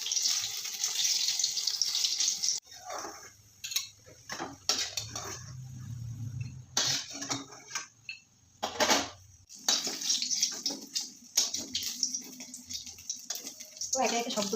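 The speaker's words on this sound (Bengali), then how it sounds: "মিডিয়াম লো ফ্লেমে এটাকে ভাজতে হবে।" Dim muri snacks fry in oil over a medium-low flame, giving bursts of broad hissing sizzle that stop and start, broken by short quiet gaps and light clatter of utensils.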